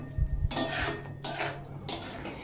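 Mustard paste with a little water being sautéed in a pan for a vegetarian pumpkin dish, heard as a few bursts of metal spoon scraping and clattering against the pan, separated by brief pauses, close and clear with no talking.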